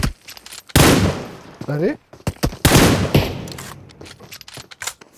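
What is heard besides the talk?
gunfire in a video game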